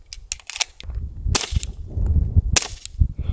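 Suppressed rifle firing subsonic 136 OTM rounds outdoors, two sharp muffled cracks with brief rumbling tails, the second about a second after the first, loud and close.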